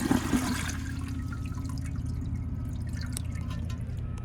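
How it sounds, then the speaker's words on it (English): A 2014 Sterling Windham toilet flushes up close, with a steady rush of water and low gurgling swirl that holds at a constant level throughout, plus a few faint drips on top. "So I'm gonna give you a close-up flush like this."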